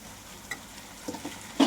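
Mint leaves fry in a pan for a coriander-mint-tomato chutney: a faint low sizzle with a few soft stirring taps and a sharper scrape of the utensil at the very end.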